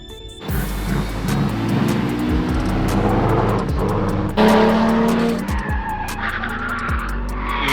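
Car spinning out as Jenny drives, loud sustained tire squeal and skidding over a revving engine, close and continuous with rising and falling pitch.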